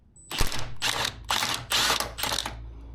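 A ratchet works loose the 12 mm strut top nuts on a GR86 during a lowering spring install, giving five close, loud bursts of clicking, each about half a second long with short gaps between.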